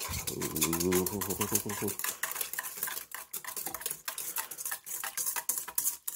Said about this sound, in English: let's whisk it up